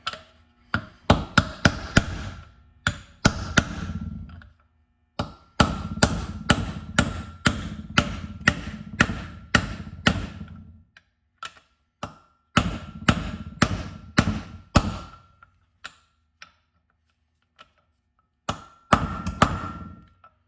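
Repeated hammer blows drive a bearing driver to seat a wheel bearing in an aluminum hub on a rock picker: close, sharp metallic strikes in rapid bursts of a dozen or more, broken by short pauses and a few lone taps.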